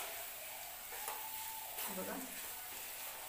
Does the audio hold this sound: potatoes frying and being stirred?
yes